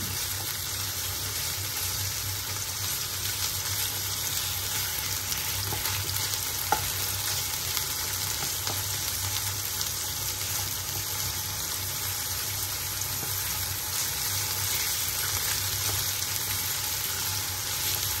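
Pork slices sautéing dry in a pan for Japanese yakisoba stir-fry noodles, giving a steady, dense sizzle and crackle that stays loud and even throughout, with no talking over it.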